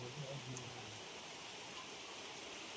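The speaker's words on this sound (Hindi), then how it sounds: "बहुत जोर की बारिश लगी है।" Heavy rain falling in a steady, soft hiss, heard faintly from a distance, with a low hum in the first second.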